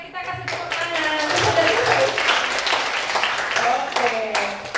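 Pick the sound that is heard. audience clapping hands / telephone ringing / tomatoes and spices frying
audience clapping hands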